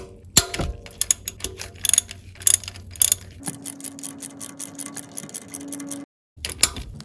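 Ratchet wrench loosening a 14mm bolt on the timing belt tensioner of a 1997–2008 Toyota Camry, heard as rapid repeated clicking bursts with a steady hum beneath, pausing briefly near the end.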